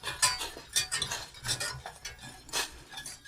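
A whisk beating cold butter into a white wine reduction in a pan, quick rhythmic metallic scraping and clinking strokes, close and steady with no talking.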